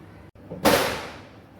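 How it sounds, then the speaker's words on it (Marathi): A single Diwali firecracker bursts sharply after a brief pause, its loud crack fading into a short echoing tail. "दिवाळीचे फटाके वाजतात"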